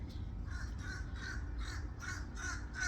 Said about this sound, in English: I got a bird here